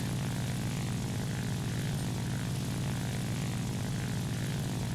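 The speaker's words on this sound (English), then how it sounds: "Now this plane with web can climb very nicely, and you can just get back to altitude" Propeller drone of an XP-55 fighter in War Thunder, a steady low engine roar holding level and loud for the whole stretch with no talk over it.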